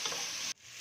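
Diced carrots and potatoes fry in a pan for soup, giving a steady loud sizzle for about half a second that then cuts off sharply into quiet.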